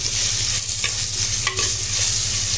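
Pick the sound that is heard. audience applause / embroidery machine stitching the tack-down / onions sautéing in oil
onions sautéing in oil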